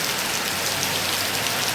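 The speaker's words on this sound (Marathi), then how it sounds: "पाऊस थोडासा कमी झाला आहे" Steady rain falls outdoors near a rural temple, a dense unbroken hiss with no voices.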